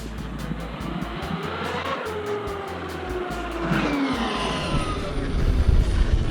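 A Traxxas X-Maxx RC monster truck drives close by outdoors with a high, rising whine from its electric motor and the rush of its tires. The whine shifts up and down in pitch as it speeds up and slows, growing louder toward the end.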